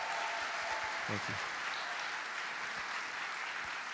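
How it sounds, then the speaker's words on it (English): An audience claps for a couple during a talk on marriage, with steady, dense applause from start to finish and a brief voice speaking over it. "Let's clap for this couple."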